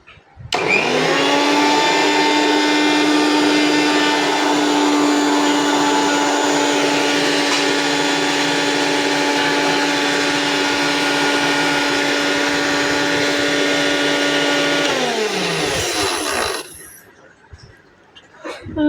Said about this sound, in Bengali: দেখতে পারলেন আমাদের মিক্সার গ্রাইন্ডারে একটা পাওয়ারের শক্তি